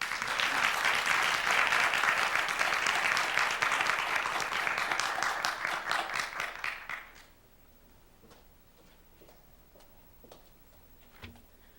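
An audience applauds at a symposium, a dense, steady clatter of many hands for about seven seconds that then stops abruptly, leaving near-silence with a few faint ticks.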